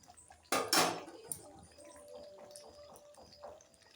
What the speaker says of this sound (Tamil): இப்போ வந்து நம்ம ஒரு லிட்டு போட்டு க்ளோஸ் பண்ணி இன்னும் ஒரு 2 மினிட்ஸ் விட்டு பார்க்கலாம்